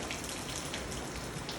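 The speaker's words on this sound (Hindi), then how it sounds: "इतनी तेज़ बारिश हो रही है" Heavy rain falls outside near a salon, a steady close hiss of drops with no talk over it.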